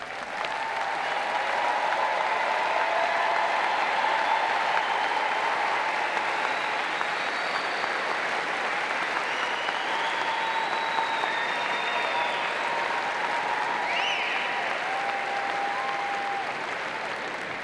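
Sustained applause fills a large university commencement ceremony as honours graduates stand, a dense, steady wash of clapping from a big crowd that holds at an even level throughout, with no voices on top.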